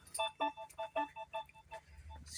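A mobile phone ringtone chiming in a quick series of bright, melodic bursts, fairly quiet and close, with no talking over it.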